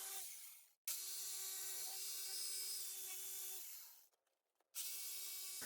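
A jigsaw cuts out wooden Easter decorations in two loud, steady runs with a brief stop between, the motor whining evenly and the blade buzzing close by.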